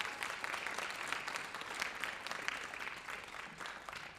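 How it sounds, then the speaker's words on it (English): An audience claps for young performers at a live folk and roots music show, giving a continuous round of applause with crisp individual claps that tapers slightly toward the end, heard at a modest distance. "So you could give them one more big round of applause."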